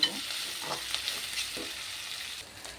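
Sliced onions and green chillies frying in a pan for a Godavari-style egg, dried prawn and okra curry, a soft steady sizzle with occasional stirring scrapes, close but quiet.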